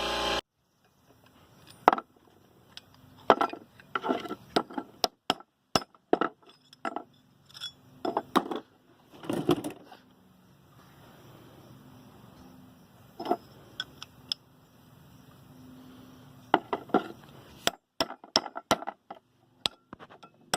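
A hammer taps steel pick-up teeth back into the pickup reel of a New Holland Super 68 hay baler, giving scattered sharp metallic clinks in irregular bursts, close and fairly loud, with quiet gaps and no talk.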